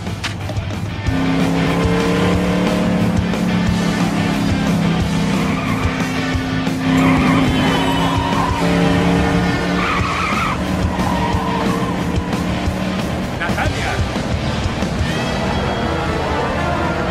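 A car driven hard in the video game Lego City Undercover, its engine droning steadily while tires squeal and skid through long screeching slides, loud and close with no pauses.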